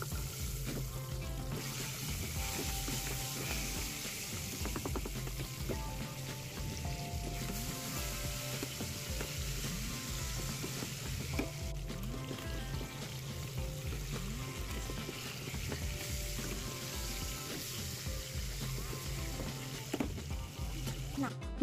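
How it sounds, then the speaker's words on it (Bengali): Fish coated in turmeric and salt fries in hot mustard oil in a kadai, giving a steady crackling sizzle throughout with occasional clinks and stirring. Background music plays quietly underneath. "ভালো করে হলুদ নুনটা মাখিয়ে মাছগুলো এবার ভেজে নেব"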